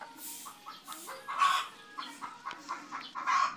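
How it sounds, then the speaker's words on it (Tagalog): Several chickens cluck and squawk noisily nearby, with repeated agitated calls rising and falling over a few seconds beside a cooking pot. "Nagre-react yung manok oh. Ingay."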